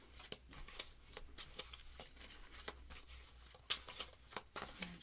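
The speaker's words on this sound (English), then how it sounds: "we are going to just keep shuffling here." A Sacred Rose tarot deck shuffled by hand, faint close riffles and soft slaps repeating in an uneven rhythm over a quiet room hum, with no talking.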